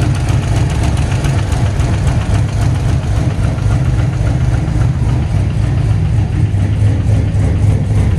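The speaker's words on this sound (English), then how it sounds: "Sounds like torque converter bolt hitting." A car engine idles with a torque converter bolt knocking and a leaking exhaust manifold gasket, a loud, steady, continuous low rumble with a faint rhythmic tapping throughout and no pauses.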